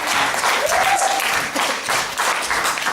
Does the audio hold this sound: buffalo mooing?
no